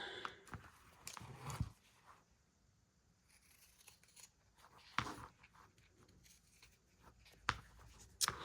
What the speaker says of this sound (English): I'm just going to take a regular scissors to this one on the end and get it up nice and close